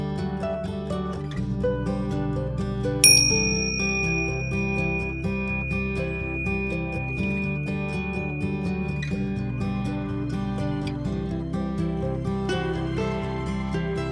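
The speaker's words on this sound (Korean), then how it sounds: "종소리와 함께 명상을 시작합니다." A meditation bell is struck once and rings with a clear, sustained tone that slowly fades over several seconds, above steady calm background music.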